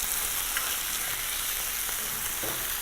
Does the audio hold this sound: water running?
no